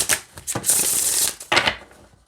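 Close-up hand shuffling of a Mausolea Oracle of Souls oracle card deck, with two quick bursts of riffling cards separated by a short pause, plus a few light taps.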